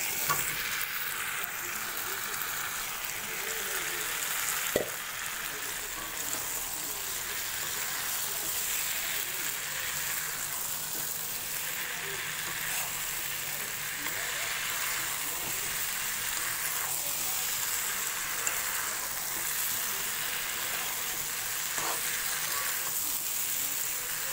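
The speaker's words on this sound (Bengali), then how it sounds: "এবারে আলু, ভেজে রাখা আলু আর পটলগুলো দিয়ে দিচ্ছি।" Fried potatoes and pointed gourd are added to a pan and sizzle steadily, with continuous hissing frying and occasional stirring clinks close by.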